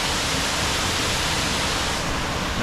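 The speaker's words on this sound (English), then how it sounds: "Oh my God, a beautiful waterfall." Dog Slaughter Falls pours steadily in winter, with ice forming around its edges and snow nearby, a loud, dense, unbroken roar of falling water heard close and alone.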